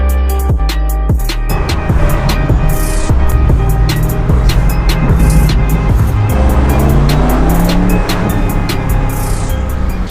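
A BMW M8 Convertible engine roars loudly and close up throughout, its pitch climbing as the car accelerates, with no voices over it.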